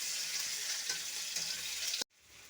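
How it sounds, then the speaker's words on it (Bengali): Chopped onion frying in a pan, a loud, even close sizzle that cuts off abruptly near the end and returns more faintly. "পেঁয়াজটা একটু ভেজে নেব।"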